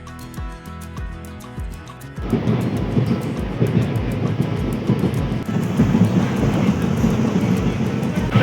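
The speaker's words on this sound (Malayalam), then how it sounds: "ട്രിവാൻഡ്രം റെയിൽവേ സ്റ്റേഷൻ എത്തിയിട്ടുണ്ട്." A train pulls into Trivandrum railway station, its steady low rumble swelling in and staying loud after a lighter rhythmic clatter at the start, heard from nearby without talk.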